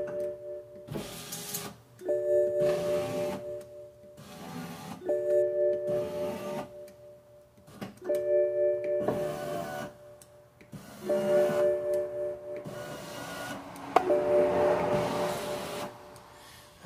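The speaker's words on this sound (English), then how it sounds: "see if the motor will bring the window up" Rear driver's window regulator motor on a 2006 BMW 550i running in repeated whirring pulses of about two seconds with short pauses between them, close and clear, with no talking.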